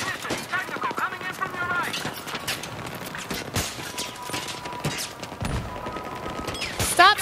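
Gunfire in the video game Battlefield 3: bursts of rapid shots and scattered single cracks in a busy battle soundscape, mixed with game effects, while a player talks over it.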